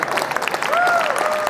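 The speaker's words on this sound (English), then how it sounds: "I see some of you clapping" An audience claps in a dense patter of many hands, with a faint vocal murmur over it.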